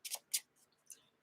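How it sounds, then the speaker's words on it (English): A deck of Marvel Champions cards is shuffled in three short, crisp riffling bursts with quiet pauses between them, close and fairly soft. "We will go ahead and shuffle."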